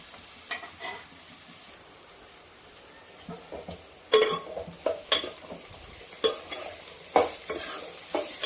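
Bitter gourd pieces frying in a pan while being stirred, producing a soft sizzle under repeated scraping and clattering strokes that become louder and more frequent in the second half, with no speech.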